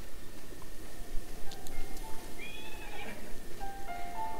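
A horse in Zelda: Breath of the Wild gives a short, high, wavering whinny partway through, set over a soft background bed of game ambience with a few faint tonal cues.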